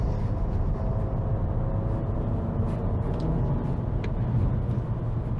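A Volvo S60 B4 drives in dynamic mode, heard from inside as a steady low engine and road rumble with a continuous whirring tone and no talking.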